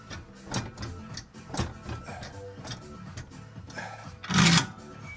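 Fender roller tool working hard against the fender lip of a BMW E36 M3, giving irregular rasping, creaking rubs and ticks close by, with a louder scraping burst near the end.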